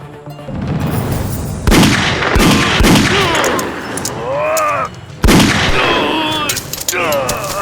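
Gunfire in a dubbed South Indian action film, several loud sharp reports bursting over a dense soundtrack, with shouted voices between the shots.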